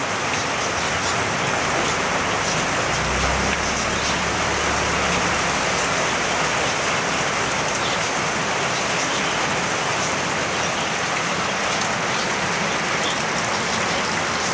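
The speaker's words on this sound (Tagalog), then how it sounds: "Ayan, ang lakas po ngayon ng ulan, no?" Heavy rain pours steadily, a dense continuous hiss of drops hitting surfaces, with no voices.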